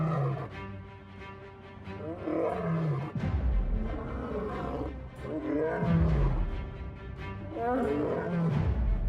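A lion roars repeatedly while attacking a hyena cub in the wild, with loud, deep, rumbling growls rising and falling in several long bursts, close and dominant, with some chaotic animal noise around.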